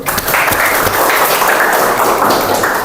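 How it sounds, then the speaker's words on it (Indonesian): Classroom applause from students during a teaching session on camera cleaning and care, a steady dense wash of clapping that holds evenly throughout without talk. "tepuk tangan dulu."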